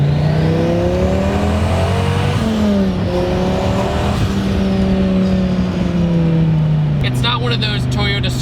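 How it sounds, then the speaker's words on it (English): A 2002 twin-turbo Dodge Viper V10 revs close by, a loud, steady engine roar whose pitch swells up and down several times before settling into a lower drone. "With the V10, you have so much displacement that the turbos spool up so quick."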